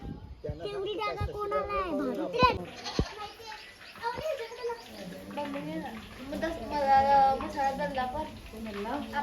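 Goats bleat repeatedly nearby while children chatter and play over them, with a few sharp knocks in between, in Bahadoli village, Palghar, India.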